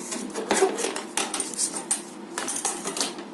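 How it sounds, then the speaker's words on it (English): Metal spoon pressed and scraped against a folded paper card during crafting, giving a series of light clinks and scratchy rubs at close range with no talk. "With the help of the spoon, we press it"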